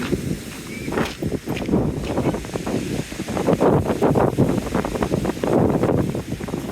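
Wind gusts along a seafront in poor weather, a steady rushing roar with buffeting on the microphone that swells and fades across the stretch, with no voices.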